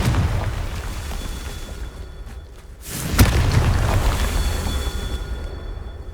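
Confringo fire spell explosion in Hogwarts Legacy, a single sharp blast bursting out near the middle, with a brief rumbling tail over steady game ambience.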